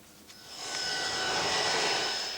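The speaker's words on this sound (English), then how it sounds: "A private plane brought Michael Kennedy's body back to Massachusetts" Private plane engine swelling into a steady whining roar with a high tonal hum, growing louder over a couple of seconds and holding near, with no voices.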